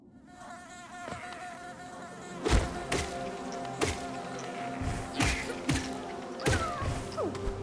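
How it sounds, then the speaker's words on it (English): Insect-like buzzing from bees in the Hollow Knight video game, a steady droning hum broken by sharp repeated thuds and hits, with no talking. "I can now one-shot those bees,"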